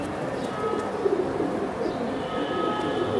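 Pigeons on a breeding farm, including Giribaz and Pankhi birds, coo softly in low, repeated murmurs against a quiet background hum.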